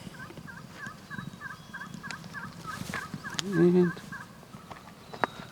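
A wild turkey gobble call carries across a mountain slope, with a short, distant burst of gobbling in the middle. Faint outdoor background surrounds it, and a voice speaks briefly.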